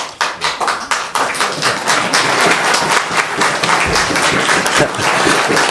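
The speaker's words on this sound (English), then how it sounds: "can I ask the gallery perhaps not quite so much applause?" A public gallery at a council meeting breaks into applause, starting with a few separate claps that quickly swell into dense, sustained clapping from a crowd in the room.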